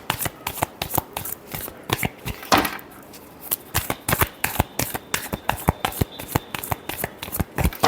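Tarot cards shuffled by hand during a reading, a rapid run of sharp riffling bursts and taps repeating close up for several seconds, with no voices.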